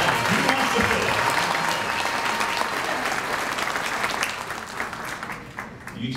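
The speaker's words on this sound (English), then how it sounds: "Let's give him a nice big round of applause." Sustained audience applause at a fiddle contest in O'Fallon, Illinois, a dense even wash of clapping from a crowd that holds steady and then thins slightly toward the end.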